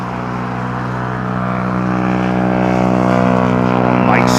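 A loud, steady engine roar with strong harmonic hum holds near and constant, rising slightly toward the end, heard at a windy Heathrow Airport during a storm, with no talk over it.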